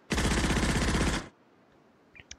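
A unit in the tabletop wargame Nations At War Digital fires on the move: a single loud, rapid burst of automatic gunfire lasting just over a second, then near silence with a few faint clicks.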